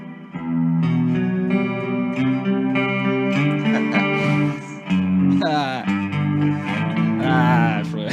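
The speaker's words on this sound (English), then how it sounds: "let's go to the last one, which is a reverb plus detune" Electric guitar played through a reverb plus detune effect, giving a shimmering chorus-like wash over sustained chords and short melodic runs, loud and continuous with a brief dip midway.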